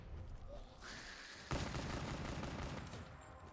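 Bursts of gunfire in the Call of Duty Black Ops 3 Zombies mode, Shadows of Evil map on Xbox One: a sharp volley breaks out midway and rattles on steadily, fairly loud against a quieter game backdrop.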